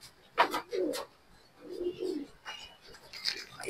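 Pigeons cooing in a loft, with soft low throaty coos and a few chirpy calls scattered through a few seconds, fairly close.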